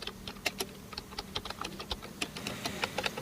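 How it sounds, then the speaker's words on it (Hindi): Clicky typing on a Portronics Key7 wireless keyboard, with a rapid, irregular run of sharp key presses close to the mic throughout, no voices. "टाइपिंग जब मैं करूँगा तो आप अभी देखना कितनी नॉइस आ रही है"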